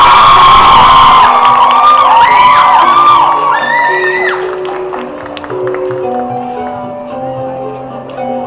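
A crowd at a rowing-competition semi-final cheers, whoops and applauds loudly, with excited shouts and high voices in the mix, then settles gradually into scattered clapping and chatter.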